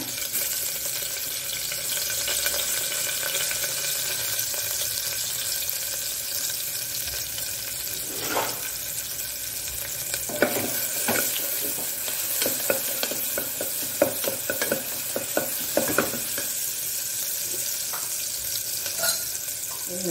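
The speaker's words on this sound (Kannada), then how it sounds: "ಸ್ವಲ್ಪ ಹೆಚ್ಚಿಟ್ಟ ನೀರುಳ್ಳಿಯನ್ನು ಹಾಕೊಳ್ಳೋಣ" Chopped onions frying in a pan of ghee and oil give a steady, close sizzle throughout, broken by scraping stirs and light clatters in the second half.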